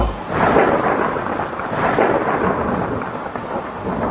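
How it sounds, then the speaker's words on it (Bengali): Heavy rain pours steadily as a dense, loud wash while deep thunder rolls and rumbles through it, swelling twice in long waves with no voices present. "মেঘের গর্জন যে কারোর মনে আতঙ্ক সৃষ্টি করার জন্য যথেষ্ট ছিল"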